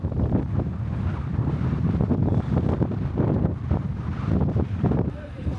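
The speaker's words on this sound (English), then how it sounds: "It's so windy." Strong wind buffets the microphone in steady low roaring gusts, with a faint wash of water in the background, in Montevideo, Uruguay.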